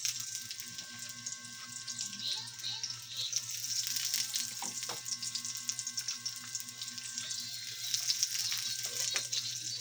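Onion frying in a pan with browned garlic, a faint, steady sizzle with a few light clicks and scrapes throughout.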